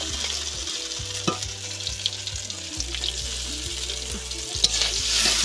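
Potatoes sizzle and fry in a pan with cumin and ginger, a steady close hiss with occasional crackles and stirring scrapes, no voices.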